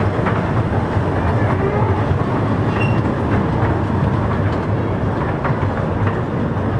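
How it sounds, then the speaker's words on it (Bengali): A small children's fair train rolls along, heard from inside the car as a loud continuous rumble with faint rhythmic wheel clatter and no clear talk. "আমি ট্রেনের ভিতরে করে ঘুরছি, আপনারা দেখতে পাচ্ছেন।"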